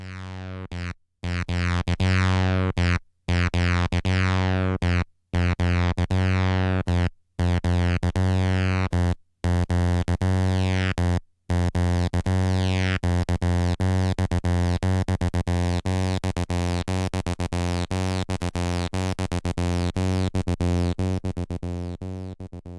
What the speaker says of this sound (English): With the TB-303 as its staple sound